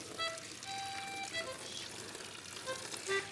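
Water pours from a spout near a river in a radio drama sound effect, a faint, steady trickle and splash with small bright drips throughout.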